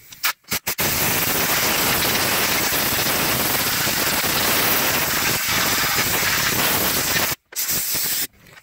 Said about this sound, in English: Give that a good blowing out. Get all the brake dust off of there.